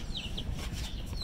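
Chickens in a backyard cage with soil spread on the floor, with a couple of short high clucks over a loud, steady noise that sounds like wind or handling.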